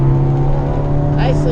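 Ford Focus ST engine pulling hard under throttle on a driving-academy track, a steady loud drone with strong harmonic tones and no talk over it.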